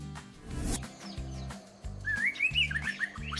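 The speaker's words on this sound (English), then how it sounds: "Magpie robin." Oriental magpie robin song: bright, warbling whistled phrases rising over a steady rhythmic musical backing, clear and fairly prominent.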